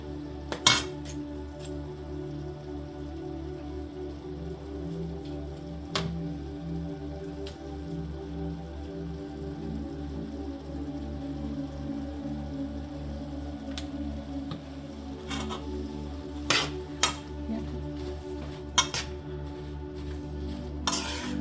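Apples mixed with sugar, vanilla sugar and spices in a pot, giving soft scraping and occasional sharp clicks of a utensil against the pot over a low steady hum, fairly quiet throughout.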